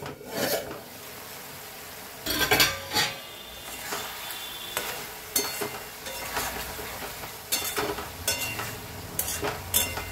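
Mourola fish curry in a pot stirred with a utensil, giving irregular scraping, rasping strokes in bursts with short pauses between, close and moderately loud, with no voices.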